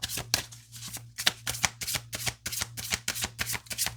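Tarot and oracle cards being shuffled by hand, a quick series of crisp riffling bursts repeating in a steady rhythm, close and clear with no voice over them.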